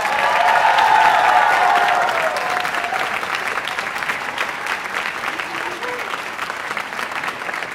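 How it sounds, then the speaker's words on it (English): An audience at a high school band and orchestra concert applauds, a dense wash of clapping that is loudest early and then settles into steadier, slightly softer clapping with faint voices underneath. "One more big applause."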